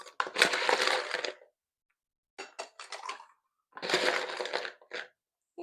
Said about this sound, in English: So now that we have all of that into our shaker tin, we're going to add ice.